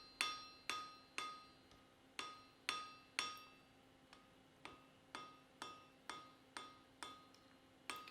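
A hammer strikes hot metal to forge a blacksmith's branch weld, about fifteen sharp ringing blows in a steady rhythm, each with a bright metallic ring and short decay, close and clear with no talking.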